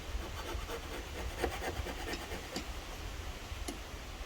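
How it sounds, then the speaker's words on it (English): A Ballard scraper, a thin non-sharp metal blade, scrapes the underside of a Masport Rotarola mower deck, giving steady rough rasping strokes with a few sharper scrape accents, fairly close and with no talking. "so here's the Ballard scraper"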